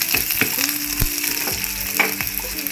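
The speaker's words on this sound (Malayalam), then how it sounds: "ഇനി നമുക്ക് ചുവന്നുള്ളി അരിഞ്ഞിട്ട് കൊടുക്കാം." Chopped shallots frying in hot oil in a pan right after mustard seeds have popped, giving a steady close sizzle with scattered sharp clicks and scrapes of stirring throughout.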